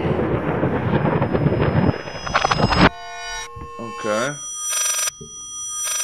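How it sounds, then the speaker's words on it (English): A telephone ring played backwards in the Layers of Fear horror game: swelling, reversed bell tones with rising sweeps, following a dense rumbling noise, loud and close. "That's a phone call, but it's in reverse."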